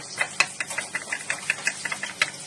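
Rhythmic grinding of chilli, coriander, cumin and turmeric with a little water into a spice paste for a Bengali squash dish, a fast, regular series of gritty scraping strokes, close and fairly loud.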